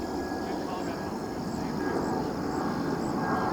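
A Flywoo Firefly 18 FPV drone flies with a steady, fairly faint buzzing whine that rises and falls slightly, while voices talk over it.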